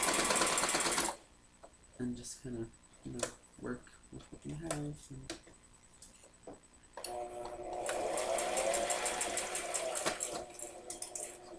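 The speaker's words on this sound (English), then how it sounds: "And like my sewing machine was just being very weird." A sewing machine stitches a Build-a-Bear dress, whirring briefly at the start, then running in a longer, steady, close-up burst near the end, with a person talking in between.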